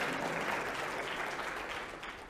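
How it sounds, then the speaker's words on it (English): Audience applause at a fintech summit, a steady dense wash of clapping that holds for a couple of seconds and tapers slightly toward the end. "Can you please give us a good round of applause?"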